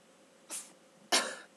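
Two short, sharp sneezes in a quiet indoor room, the second louder and more forceful than the first.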